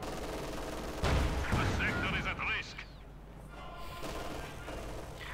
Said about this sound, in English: Shots going off here.